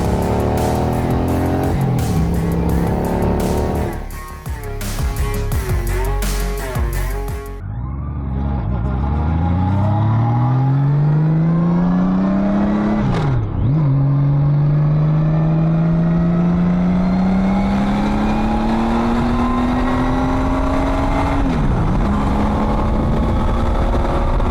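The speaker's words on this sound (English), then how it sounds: "We are test riding this F6 Valkyrie Honda. This is, or has been, converted to a trike." A Honda F6 Valkyrie converted to a trike with a power steering kit, on a test ride: loud, continuous engine roar with sweeping rises and falls in pitch as it revs and accelerates, plus a brief lull partway through.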